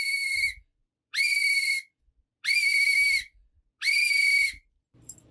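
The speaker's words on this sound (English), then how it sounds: "That is our long whistle sound." A long whistle blows four times, each blast sustained for under a second with short silent gaps between, clear and close with no voices.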